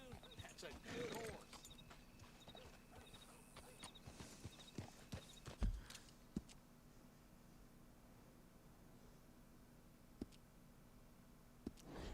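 A horse in the video game Red Dead Redemption 2, with hooves clip-clopping faintly and a soft snort under low game ambience and a quiet voice, all recorded at low volume.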